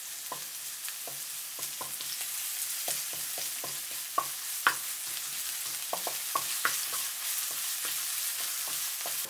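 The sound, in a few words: grated ginger and chopped garlic frying in sunflower oil, stirred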